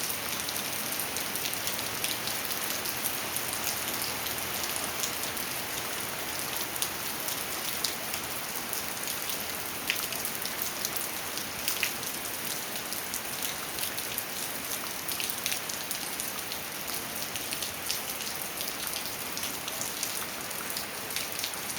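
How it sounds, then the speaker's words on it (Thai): Steady, even rain falls continuously with a fine hiss of drops pattering on surfaces, with no voices or other sounds. "ฝนตกลิ้นเลยเนี่ย"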